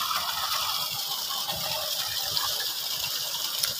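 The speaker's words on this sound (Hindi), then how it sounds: "ये देखिए पानी भी निकाल रहा है।" A Bentex water pump runs and pushes out water, a model prone to cutting out by itself mid-run. It gives a steady, moderately loud mechanical whir with a gushing rush and no pauses, and nobody speaks.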